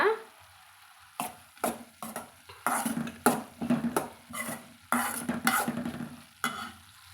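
A spoon repeatedly scrapes and stirs cooked broad beans in a metal pan for a beans aviyal. The strokes come in irregular bursts over a faint sizzle, with no talking.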